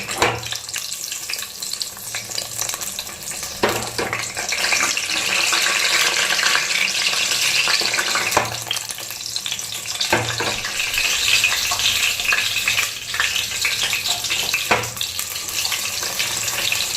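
Brinjals frying in hot oil in a home kitchen, a steady loud sizzle and bubbling that runs unbroken for the whole stretch, with a few faint clinks and stirring knocks and no voices.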